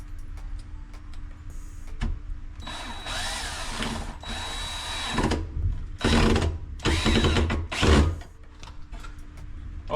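A power drill drives screws to secure a pipe during a re-pipe by a plumber, with several short whirring bursts and pauses, close by and fairly loud, no talk.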